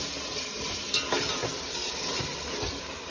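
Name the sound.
onion, tomato and masala frying in butter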